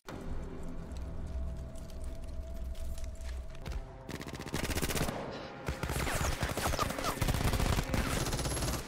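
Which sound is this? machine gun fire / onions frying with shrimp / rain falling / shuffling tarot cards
machine gun fire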